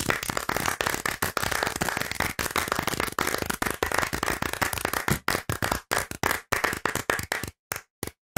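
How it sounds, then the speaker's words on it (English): A single person claps continuously at close range to build a round of applause, a rapid, steady run of sharp hand claps that slows near the end into a few spaced, isolated claps. "And that's just one person clapping away."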